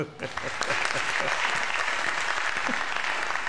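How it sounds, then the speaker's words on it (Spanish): A church congregation breaks into applause during a sermon, sustained clapping that starts quickly and stays full, with a few voices mixed in. "Y yo creo que eso merece un aplauso."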